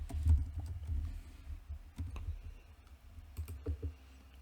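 Soft, uneven keyboard clicks as code is typed on a computer keyboard, short bursts of keystrokes separated by pauses, close and quiet against a low room hum, with no voices.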